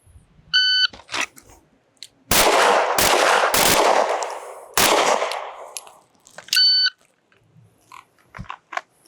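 Pistol fire on an outdoor range during an FBI qualification stage: a shot timer beeps, then four loud, sharp reports come in quick succession, and a second timer beep follows.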